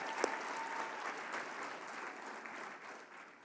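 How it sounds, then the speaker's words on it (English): Steady audience applause fills a ceremony room at a youth advocates awards event, one sharp clap standing out early before the clapping fades gradually. "How about another round of applause for them?"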